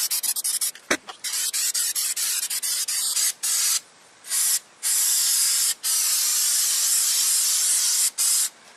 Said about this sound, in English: I'll go ahead and let you watch me coat the inside of this casket.